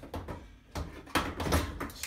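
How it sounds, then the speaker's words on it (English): A GE gas range oven door being slid back onto its hinges, giving a few quiet knocks and clunks spaced unevenly, close by with no talking. "And now we'll reattach the door."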